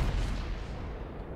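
Naval cannon fire in the World of Warships game, with battleships such as the Montana, Ibuki and Iowa: a steady, loud rumbling barrage of heavy booms that fills the whole clip without pause.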